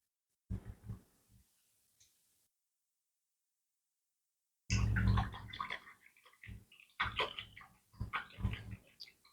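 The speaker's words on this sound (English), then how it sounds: "I'm gonna wash my brush out." An acrylic paintbrush is swished and rinsed in a water container, with a few soft splashes, a pause, then a louder burst of sloshing and tapping against the container.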